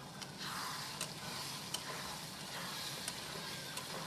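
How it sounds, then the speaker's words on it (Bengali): Spice paste for a Bengali-style chicken curry frying and being stirred in a pan, a steady low sizzle with occasional sharp scrape and clink ticks from the spoon, fairly faint and continuous, no talking. "এভাবে মশলাটা দেওয়ার পর বন্ধুরা বেশ ভালোভাবে করে কষিয়ে নিতে হবে"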